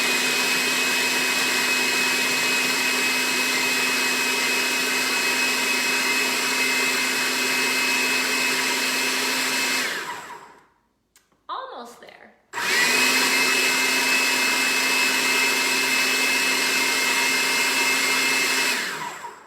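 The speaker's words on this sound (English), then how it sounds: "I'm just gonna blend it again to get a really coarse meal" Countertop blender chopping dates into a coarse meal, a loud steady high-pitched whir running about ten seconds, a brief sputtering pause, then whirring again at full speed for several seconds.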